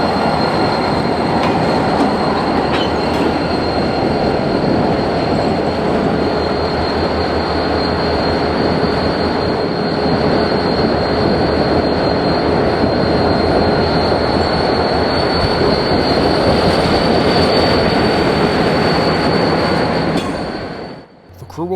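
A train led by a pair of GP40 locomotives passes close by on the B&OCT main line, a loud, continuous rumble with rolling wheel noise and a high squeal, fading briefly at the end.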